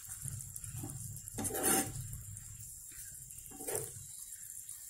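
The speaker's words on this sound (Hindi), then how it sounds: "अभी मैं जो मेरा पनीर और पटाटो है मैं उसे मिला देती हूँ यहाँ पर।" A spoon scrapes and clatters against a pan while paneer and potato are stirred together with spices, several sharp metallic scrapes over a quiet background.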